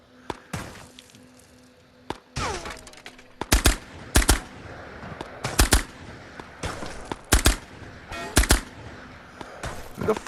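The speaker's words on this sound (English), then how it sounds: "Who the fuck is shooting at me?" Gunfire in the VR shooter Ghosts of Tabor on PSVR2 comes in sharp, loud bursts of rapid automatic shots, repeated every second or so, with a few isolated single shots early on.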